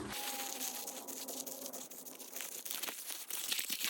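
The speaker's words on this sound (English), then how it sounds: "this is my packaging paper. I'm going to crumple this up one more time." Packaging paper is crumpled up by hand at close range, giving a continuous dense crackle and crinkle with no talking.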